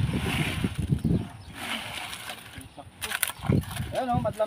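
Wet concrete pours and splashes into a septic tank form on a building site, a heavy sloshing rush up front that thins out, with a voice talking briefly near the end.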